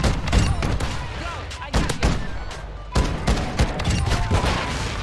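KV Broadside shotgun fire in Call of Duty: Modern Warfare II: loud, irregular blasts and booms burst repeatedly amid game noise, with someone talking over them.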